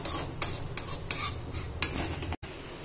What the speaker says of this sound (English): Now we are adding the chana which we cooked earlier